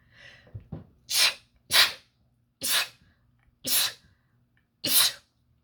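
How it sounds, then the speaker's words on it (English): A few soft sniffs and breaths, then four sharp sneezes spaced evenly apart, loud and close. "oh, excuse me, that was a real sneeze."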